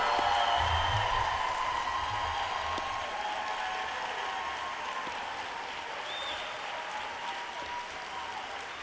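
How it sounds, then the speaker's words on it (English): A crowd at a Teacher of the Year ceremony gives sustained applause for the teachers, steady and full at first, then tapering gently while still going. "And let's give them a cheer."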